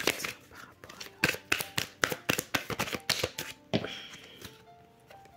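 Tarot cards are shuffled and drawn from a deck, giving a quick series of crisp, close slaps and flicks in an irregular rhythm, with soft speech in between.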